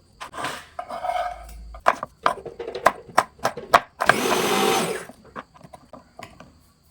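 A kitchen mixer grinder (mixie) whirs in a loud continuous burst for about a second amid clattering of dishes and utensils nearby, with no one speaking.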